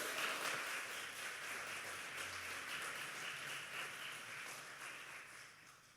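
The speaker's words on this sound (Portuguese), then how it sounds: "Então dê uma salva de palmas bem forte a ele aí." A church congregation claps in a soft, continuous wash of applause that holds steady and fades slightly near the end, with no talk over it.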